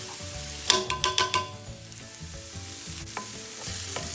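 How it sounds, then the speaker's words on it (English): Chopped onions sweat in peanut oil in a pan over medium-high heat. A few quick scrapes of the spoon open the clip, and a soft, steady sizzle continues underneath. "I'm just gonna sweat my onions."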